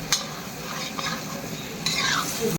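Duck meat dry-frying in a pan gives a continuous close sizzle, with a few scraping stir strokes and a louder burst of stirring toward the end.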